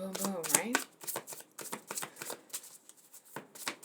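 Tarot cards being shuffled by hand in quick riffling bursts, close and clear, with short pauses between them.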